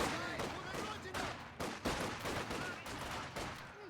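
Machine gun fire in a strategy video game arrives as repeated dense bursts and sharp impacts that crackle across the whole stretch, loud and layered, with faint commentary under it.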